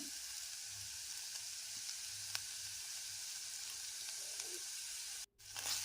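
Ginger garlic paste fries in oil with softened onions for a chicken curry, giving a faint, even sizzle that runs steadily and cuts out briefly near the end.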